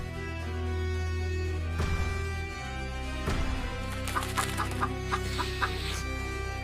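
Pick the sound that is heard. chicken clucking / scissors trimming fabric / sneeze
chicken clucking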